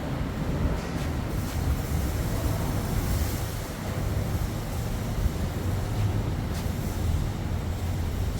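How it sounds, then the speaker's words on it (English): Wind blowing outdoors while someone builds a pallet planter box: a steady, loud rushing buffet on the microphone fills the whole stretch with no talk over it. "Kind of fighting the wind here."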